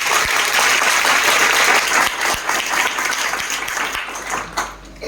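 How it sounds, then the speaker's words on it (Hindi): Sustained, dense audience applause fills a training seminar after an education presentation, steady and loud for several seconds and then tapering slightly near the end, with no talking over it. "एक जोरदार तालियां होना चाहिए"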